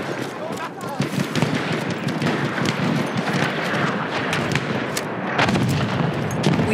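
Sniper and battlefield gunfire in the video game Battlefield 1, dense crackling shots and booming blasts over a constant roar of combat noise.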